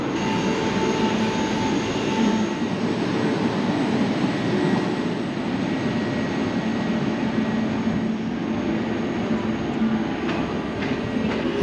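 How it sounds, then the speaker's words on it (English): Railjet train bound for Vienna standing at a platform in Budapest Keleti station, a steady loud rumble and hum of the idling train with station noise around it, continuous and close, with no talking. "And in platform here is the 1242 Vienna. Should be leaving any second now."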